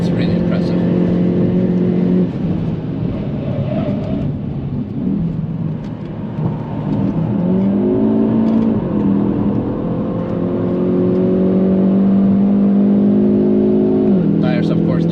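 A Hyundai i30N with a dual-clutch gearbox driven hard on the empty Nürburgring track, its engine droning loudly under wind and road noise, pitch climbing through gears with quick shift steps, heard from inside the car.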